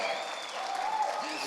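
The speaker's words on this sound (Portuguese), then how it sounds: "Aclamado pela plateia." A seminar audience applauds a speaker at a corporate sales event, with steady, dense clapping throughout and a faint voice audible beneath it.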